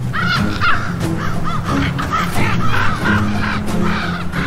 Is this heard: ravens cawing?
yes